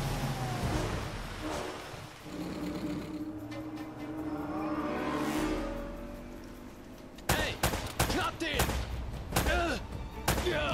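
Gunfire in the game Uncharted: Drake's Fortune, a dense run of sharp shots and impacts late on, after a stretch of music and game ambience, loud and close with a voice speaking at times.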